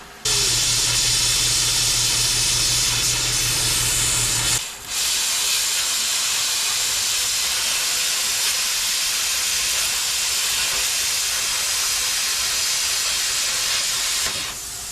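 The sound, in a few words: cheap plasma cutter cutting with compressed air hiss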